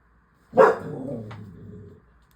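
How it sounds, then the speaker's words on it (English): A single loud, close bark from a house dog reacting to the mailman, trailing into a short growling tail before quiet returns. "My dog barking again at the mailman."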